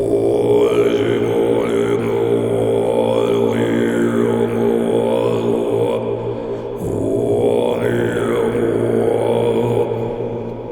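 Deep, low overtone chant in the style of Tibetan monks, sung with an echo effect, a sustained droning voice with shifting whistling harmonics above it, loud and continuous with a short pause for breath midway.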